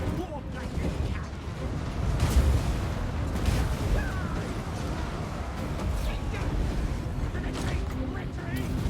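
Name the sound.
warp lightning cannon firing in a video game (Warhammer, Clan Skryre)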